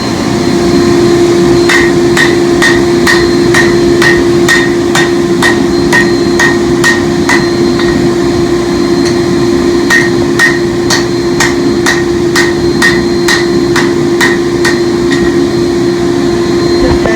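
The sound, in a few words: hammer forging tomahawk on anvil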